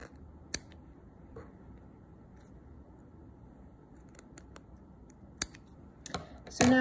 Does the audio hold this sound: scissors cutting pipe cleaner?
yes